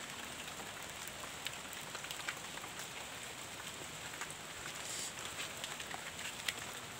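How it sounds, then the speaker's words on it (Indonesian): Steady light rain patters continuously on surfaces, a soft even hiss with occasional sharper drops, no voices. "Hujan sih nggak deres,"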